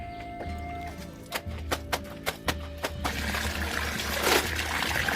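Soaked clothes are washed by hand with water, a few sharp slaps and splashes followed by a steady trickling and sloshing of water close by.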